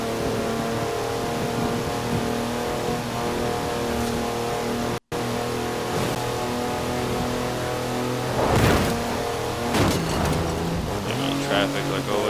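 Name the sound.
4-wheel drive car on mud tyres drifting, Forza Horizon 4 video game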